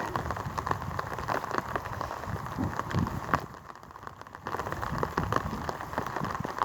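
Rain patters steadily on farm machinery left outdoors, a dense crackling texture that dips briefly in the middle before resuming.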